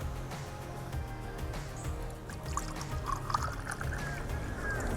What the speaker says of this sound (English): pour the acid over the water